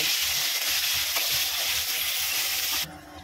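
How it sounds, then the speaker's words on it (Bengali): Potato pieces frying in hot oil for a khichuri and chicken kosha lunch, giving a steady broadband sizzle that fills the clip and drops off sharply near the end, with no voices. "তো আমি এটা আলুকে এর মধ্যে এবার ফ্রাই করে নেবো"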